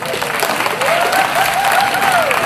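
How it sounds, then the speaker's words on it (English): Crowd at the Great Dorset Chilli Eating Contest, an outdoor event in 2013, applauds continuously, a loud sustained patter of clapping with a faint whistle or cheer rising above it and some voices mixed in. "Big round of applause for them."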